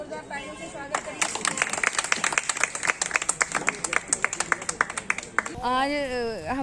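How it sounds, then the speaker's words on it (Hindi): An audience claps at a Samajwadi Party event, with dense crisp individual claps building into lively applause for several seconds before it stops abruptly and a voice begins speaking. "सबको जोरदार तालियों से स्वागत करिए।"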